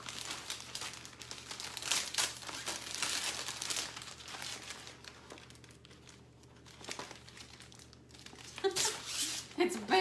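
Crinkling and tearing of a plastic package, steady close rustling with louder bursts near the end, with someone talking over it.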